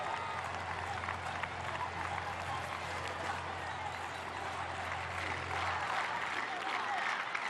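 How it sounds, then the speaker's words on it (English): A stadium crowd at an athletics track in Napoli roars and cheers in a continuous dense wash of voices and applause, steady and loud throughout with no distinct pauses. "the crowd shouting Italia"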